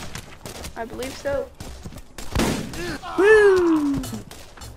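Gunfire, including shotgun blasts, in the video game Borderlands 2: one loud burst of shots cuts between excited voices that talk and shout over the fight.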